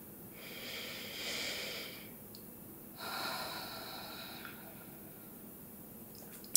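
Slow, deep breaths during a yoga class: two long airy exhalations, each around two seconds, close and soft, with a quiet pause between them and no speech.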